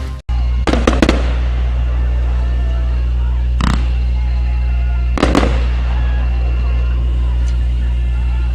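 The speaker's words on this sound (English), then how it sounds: "I guess the fireworks did not last very long" Fireworks go off after an eight-man football game, several sharp pops and booms scattered over a steady low rumble, with a few bursts spaced seconds apart.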